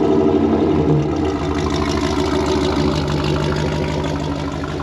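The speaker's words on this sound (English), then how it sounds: "here we'll give it a little rev if you want" A Dodge Demon engine with headers, a straight pipe and a MagnaFlow muffler rumbles loud and close in a deep, steady burble that settles slightly lower after the first seconds.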